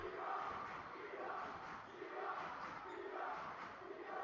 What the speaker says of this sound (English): Warrensburg student sections come alive.